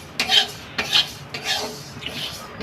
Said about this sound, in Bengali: ডালটা একটু লাল করে শুকনো কড়াইতে ভেজে নিতে বলেছে ও